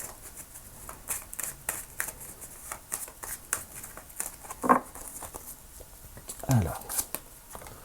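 Oracle cards are shuffled by hand in a series of quick, crisp riffles and slides with a few louder slaps near the end, while someone speaks briefly.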